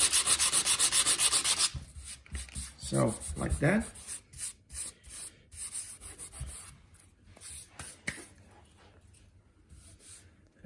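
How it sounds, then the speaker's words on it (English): Sanding a wood surface after a filler-stick repair: steady, rapid rubbing strokes at first, then scattered short scrapes and rubs, with a brief spoken remark partway through. "What I'm doing is I'm sanding"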